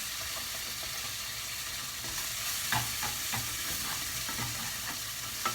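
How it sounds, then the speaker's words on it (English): Mango pieces and bread being stirred around in a hot frying pan, a steady soft sizzle with a few scraping utensil knocks against the pan, close and moderately quiet. "Now, what we do is we stir around the mango, the bread."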